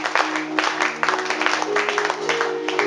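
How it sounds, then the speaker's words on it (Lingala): A church congregation clapping together in a steady, continuous burst of applause that stays close and fairly loud throughout, with a sustained tone running underneath. "Acclamons pour le roi des rois."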